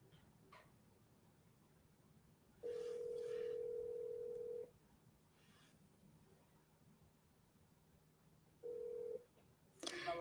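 A phone call rings out on a handset: faint room hiss, then two long ringback tones and a shorter third, with light handling clicks, quiet and close.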